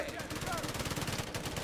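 Artillery bombardment in Company of Heroes 3: a dense, continuous run of rapid low booms and crackling blasts, loud and close, with the impacts blurring together over the whole stretch.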